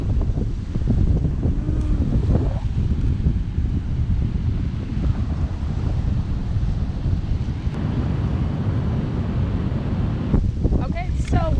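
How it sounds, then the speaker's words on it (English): Strong wind buffets the microphone in a constant roar, with the wash of sea waves on a beach mixed underneath and a brief voice near the end. "it's so windy. Although it looks real nice with the sun. But you can hear the wave of the sea."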